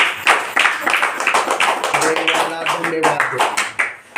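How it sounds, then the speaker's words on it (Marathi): A congregation claps hands together during a church worship service, producing a run of fairly loud, quick claps with voices talking and singing alongside. "आपण टाळ्या वाजवून"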